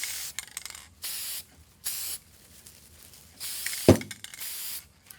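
Several short hissing bursts of an aerosol spray can onto a wreath material piece, each lasting about half a second to a second, with a brief clatter near the end.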